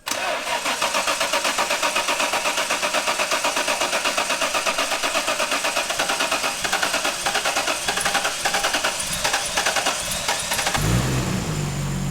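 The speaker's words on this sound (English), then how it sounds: "How's this Microtech cold start?" A car engine with a Microtech engine management unit cranks over and over on a cold start with a fast rhythmic churning, then catches near the end and settles into a rough idle.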